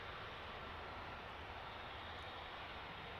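A Ryanair airliner taxis at London Luton Airport, its engines giving a steady, broad jet rumble and hiss that holds constant from a middle distance, with no talk over it.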